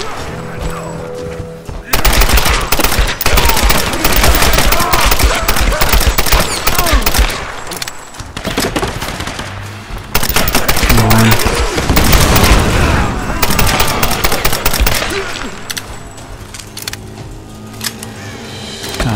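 Rapid automatic gunfire and heavy bursts from the video game Tomb Raider (2013), dense and loud, rattling almost nonstop with a few brief lulls and booming impacts mixed in.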